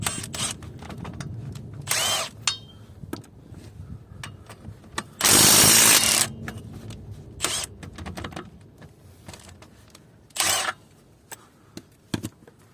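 A Milwaukee M12 Stubby impact wrench with a 4Ah battery works on a car's wheel lug bolts. Loud, close bursts of rattling hammering come in short spurts, one longer run in the middle, mixed with clicks and handling noise.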